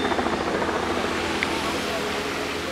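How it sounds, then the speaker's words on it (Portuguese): A tour helicopter's steady, loud rotor and engine drone fills the whole stretch without pause, with a voice talking over it. "por isso você vai estar escutando um pouco do barulho do helicóptero"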